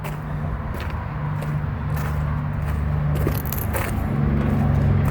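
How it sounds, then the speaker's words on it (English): Steady road traffic from a nearby highway in Idaho, cars passing at around 70 mph, forms a continuous low rumble and whoosh with occasional brief swells, heard outdoors with no talking. "you still hear morons driving by at 70 miles an hour"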